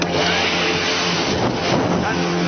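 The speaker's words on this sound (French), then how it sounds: "Et je le prouve avec mon aspirateur que j'ai exprès monté à l'envers." A vacuum cleaner fitted backwards so it blows air gives a steady, loud, broad whooshing roar that runs unbroken throughout, with a faint voice underneath.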